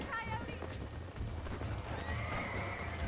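Hooves clip-clop at a steady gallop with a horse whinnying, from the Red Dead Redemption video game, alongside a voice talking over the continuous ride.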